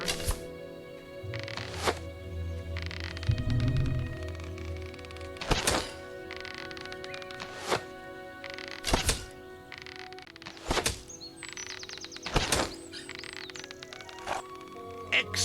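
Arrows thud sharply into targets during archery training in Fable Anniversary, about eight distinct hits spaced one to two seconds apart over a soft game ambience, with a brief murmur of voice early on.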